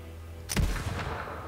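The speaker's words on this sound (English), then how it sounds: "Of course, it's a shotgun, so it's going to be a bit harder" A shotgun fires once in Borderlands 3, a single loud, booming blast halfway through, followed by a brief rumbling tail.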